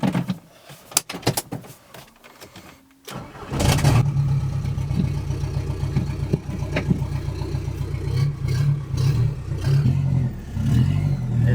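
A 1.9L ALH diesel in a Mk4 Jetta cranks briefly, then catches and settles into a loud, steady clattering idle that runs on, close by, with no talk over it.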